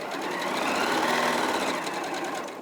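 A domestic sewing machine runs steadily, stitching fabric into the corners of a seam, a continuous close mechanical whirr holding at an even pace without pause for nearly three seconds.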